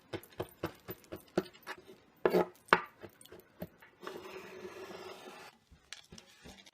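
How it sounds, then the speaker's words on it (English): A knife chops chocolate chips on a board with a quick run of sharp, close taps, then a few heavier chops and a brief steady scraping rub before falling quiet. "I'm going to chop up some chocolate chips to sprinkle on the top."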